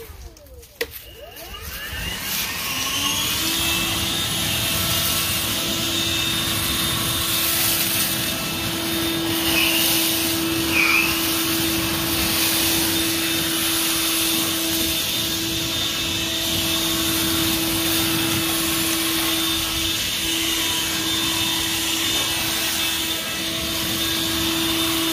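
A Litheli 40V brushless leaf blower spins up after a brief handling knock and then runs loud and steady at close range, a constant whooshing roar with a sustained whine and no talk.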